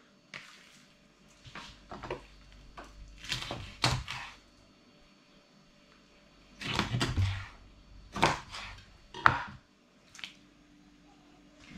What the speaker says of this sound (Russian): Делим ее на порционные кусочки.